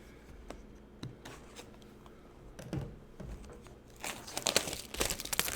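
Trading card packs torn open and handled, a Brown Dust II BT06 Korean release opened from a case, giving soft crinkling, rustling and sharp tearing clicks that grow louder and busier toward the end, with no talking.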